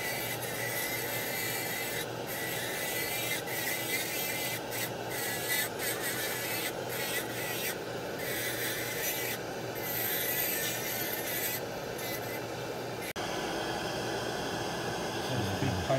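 A grinding stone smooths the screw area of a full-mouth dental metal framework, giving a steady, close rasping hum that runs continuously with slight fluctuations throughout.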